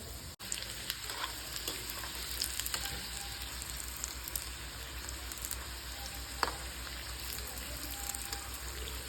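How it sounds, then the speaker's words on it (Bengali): Chicken potato lollipops deep-frying in hot oil over medium-low heat, a steady dense crackling sizzle that runs without a break, faint and even, with an occasional small pop and no talking. "এবার গরম তেলের মধ্যে আমি ললিপপগুলোকে দিয়ে দেবো"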